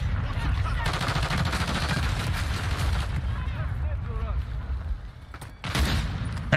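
Rapid automatic gunfire in a Call of Duty: Modern Warfare 3 multiplayer match, a dense continuous crackle of shots that breaks off briefly near the end, then resumes, with a voice talking over it.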